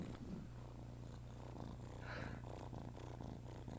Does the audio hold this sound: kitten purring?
yes